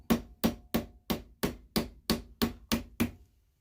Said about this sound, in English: We take our nylon hammer and we gently